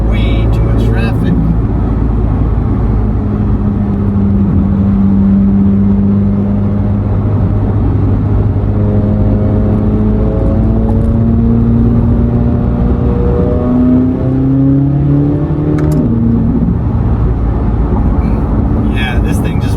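A 2023 Corvette C8 Z06 with 3LZ package roars loudly from inside as it accelerates, engine pitch climbing through gears with a shift near the end, with people talking over the steady drone.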